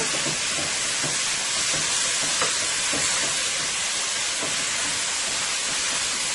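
Beef sears in a hot pan for Chinese-style beef and broccoli, a constant loud sizzle and hiss with a few faint knocks, no talking.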